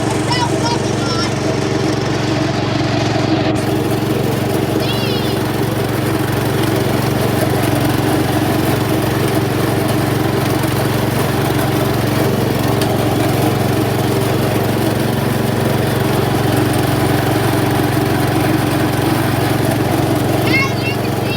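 A tractor engine running loudly, a steady, droning mechanical roar that continues unbroken for about twenty seconds, close and dominant, with no clear changes in speed.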